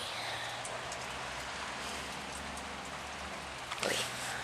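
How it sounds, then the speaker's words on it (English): Steady rain falls outdoors in a yard, a constant broadband hiss lasting throughout, with a brief louder rustle or clatter near the end. "I'm trying to hide out from the rain"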